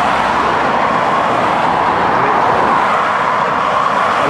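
Steady road traffic roars along the Ironbridge bypass, built 1988–89, a loud continuous broadband rush of passing vehicles heard close by without any talk.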